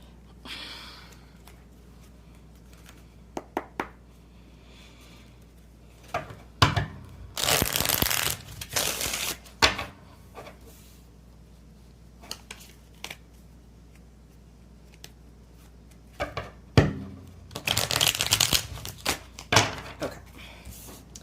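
Tarot cards are shuffled by hand in several loud, close riffling bursts, separated by quieter stretches of scattered card taps and rustles, with no voices.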